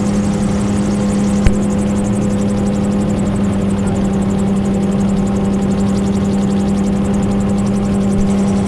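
A gyroplane flying a left-hand circuit at 800 feet gives a steady, continuous engine and propeller drone at even loudness throughout, with one brief click near the start and no voices.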